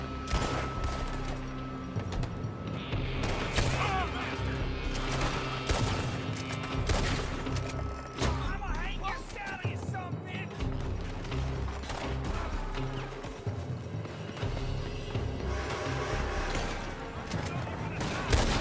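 Gunfire erupts from a building in Red Dead Redemption 2, a dense, continuous volley of shots under shouting voices and a music bed, loud and sustained throughout.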